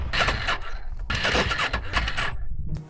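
A motorcycle engine with an untuned pod filter sputters and stumbles in uneven bursts, revving up, cutting out briefly, then catching again, close and rough.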